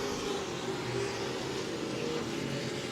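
Race cars pull away on a green-flag restart at a short-track oval, a steady, fairly distant engine drone without clear passes, heard alone.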